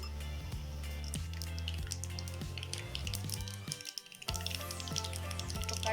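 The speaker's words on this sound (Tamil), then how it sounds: "கடுகு நல்லா பொரியட்டும்." Mustard seeds and a pinch of fenugreek spluttering in hot oil in a kadai for South Indian rajma kara kuzhambu, a dense steady crackle and sizzle with scattered sharp pops close by, briefly dipping near the end before resuming.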